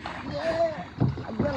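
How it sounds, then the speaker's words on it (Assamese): Wooden oar strokes pushing a rowboat across a tidal pool off the sea in South Goa, with soft splashes and wind noise while people talk close by. "নাও চলাই আছোঁ দেখিছে নহয় বৈঠা নিজে মাৰিছোঁ"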